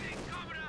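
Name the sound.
MG42 machine gun fire in Company of Heroes 2 (video game)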